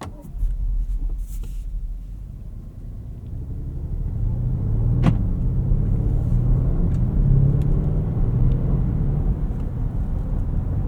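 A 2024 Porsche Cayenne S moves off and drives at night, a steady low engine and road rumble from inside the cabin that swells as it gains speed, with a few faint clicks.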